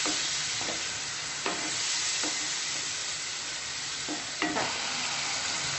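Tomato puree masala for a potato and green peas curry bubbling and frying in oil, with a constant hiss broken by a few soft scrapes of a spoon stirring through the pan.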